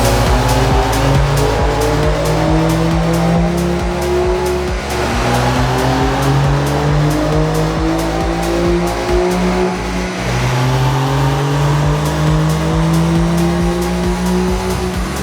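A tuned Porsche 992 Carrera roars on a dyno, loud and close, its engine note repeatedly climbing in pitch and dropping back at each gearshift through a full-throttle pull.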